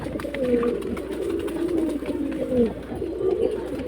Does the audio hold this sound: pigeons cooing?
yes